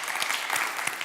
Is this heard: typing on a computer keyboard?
no